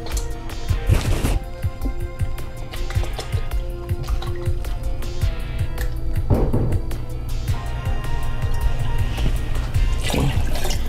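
Water poured steadily into a pot of Chamorro chicken curry, a continuous close splashing and trickling with a few louder gushes, no talking.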